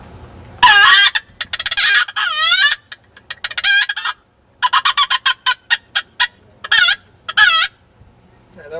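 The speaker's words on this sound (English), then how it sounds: "such as a chicken distress, and that would sound something like this" Chicken distress sound played on a closed-reed predator call: frantic, squawking bursts in rapid, irregular clusters, loud and close, with brief gaps between flurries of short choppy notes.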